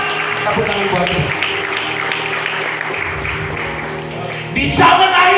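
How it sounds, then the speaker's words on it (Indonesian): A church congregation claps along at a revival and healing service, the applause blending into dense music and voices, with a louder burst of clapping near the end. "Tepuk tangan buat Tuhan."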